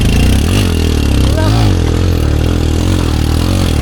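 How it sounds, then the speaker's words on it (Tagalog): A motorcycle passes close on a narrow road, its engine loud and buzzing with a rising then falling drone and some clatter, filling the whole moment. "Ayun, may motor na, oh."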